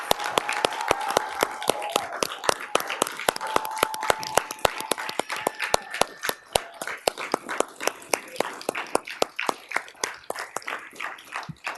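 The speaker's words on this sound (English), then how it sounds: "Can you all join me in just applauding this young man for his endeavors and his efforts?" An audience at a Memphis city council meeting applauds a young man with sparse, distinct hand claps that start brisk and irregular, then slow into a steadier rhythm. A faint tone hums underneath at the start.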